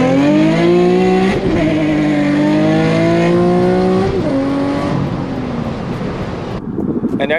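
Nissan 350Z fitted with aftermarket test pipes revving outdoors in the rain, a loud, close engine note rising and settling through a couple of revs before dropping off, with wind buffeting and some talk underneath.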